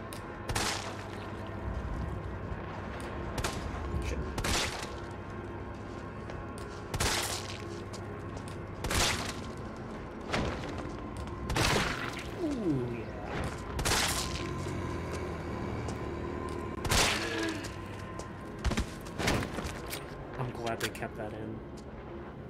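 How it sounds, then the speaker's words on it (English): Gunshots blowing apart zombie heads in Resident Evil 3 Remake, a series of sharp, loud cracks and wet bursts spaced a couple of seconds apart over a droning game ambience, with someone talking throughout. "Freaking head exploding effect."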